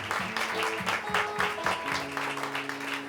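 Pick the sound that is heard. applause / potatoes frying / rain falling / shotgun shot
applause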